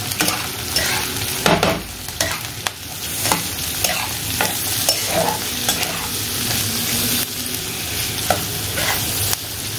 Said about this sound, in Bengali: রসুনটাও দিয়ে দিলাম, একটু একটু ভেজে নিই